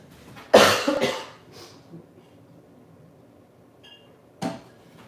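A single loud, close cough, followed by quiet breathing and a fainter short cough a few seconds later.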